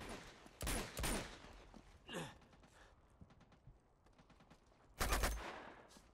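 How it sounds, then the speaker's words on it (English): Gunfire in the video game Uncharted 2: a few sharp, loud shots in quick bursts near the start and another burst near the end, separated by quieter game ambience. "Chloé, stop shooting him."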